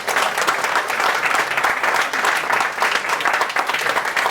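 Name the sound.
audience applause at press event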